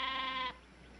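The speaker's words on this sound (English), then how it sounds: "They are not stock. They're sheep." A sheep gives one loud, close bleat lasting about half a second, then stops abruptly, leaving faint background quiet.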